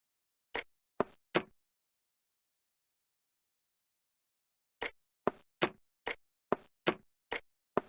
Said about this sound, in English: The lock spun back to neutral and nearly took my fingers off